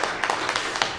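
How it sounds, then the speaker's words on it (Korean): Applause from a Presbyterian church congregation at a Sunday service, honouring a retiring ordained deacon: brief, even clapping with a few sharper claps standing out. "박수로 축하하겠습니다."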